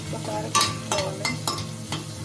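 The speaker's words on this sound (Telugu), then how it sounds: "పచ్చిమిర్చి బాగా వేగాలి" Green chillies fry in hot oil with curry leaves, dried red chillies and turmeric, a close sizzle punctuated by four or five sharp scraping stirs of a spatula against the pan.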